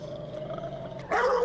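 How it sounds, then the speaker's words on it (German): A dog growling sound effect played from a soundboard during online roleplay, a low steady rumble that swells louder and rougher near the end, heard alone without talk. "der Typ spielt Hunde-RP mit Hundesound"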